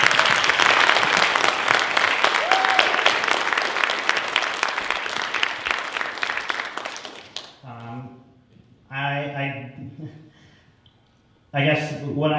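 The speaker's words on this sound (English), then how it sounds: "And please give all of the speakers up here a round of applause." Audience applause for a panel of speakers at a live storytelling event, a full steady clapping that fades out after about seven seconds, after which a person begins talking.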